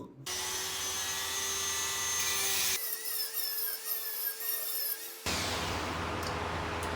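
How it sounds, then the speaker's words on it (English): A grinding or cut-off tool works metal threads on a Camaro part, a steady loud abrasive whir that runs continuously for about seven seconds, its tone shifting partway through as the load changes. "So I ended up just having to open up the threads a little bit here."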